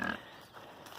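Pigs grunt and oink briefly up close on a farm while eating handfuls of dried corn, a short burst of animal noise.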